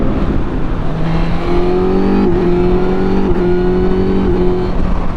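A stock 2022 Suzuki GSX-S1000GT+ sport-touring motorcycle engine pulls hard under acceleration, loud and close, its tone climbing through the revs in steps as it shifts up, with steady wind roar underneath.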